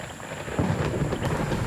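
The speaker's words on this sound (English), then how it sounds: "5 minutes later, solid rain." Heavy rain pours steadily in the Amazon while a deep rumble of thunder rolls in partway through, a dense wash of downpour filling the whole stretch with no voices.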